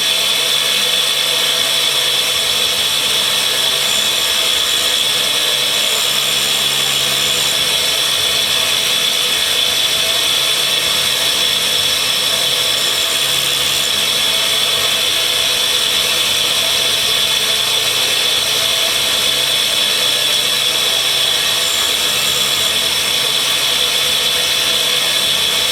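Grinder working on spiral flute taps, a loud, steady, high-pitched whine with a harsh hiss that holds unbroken from start to end, very close and alone.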